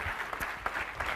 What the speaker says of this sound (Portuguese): Palmas para o TEDx.